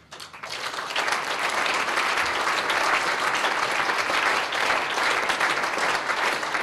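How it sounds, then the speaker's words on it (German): Sustained, dense applause from a large audience at an SPD state party convention in Brandenburg, steady and loud throughout without speech. "Applaus"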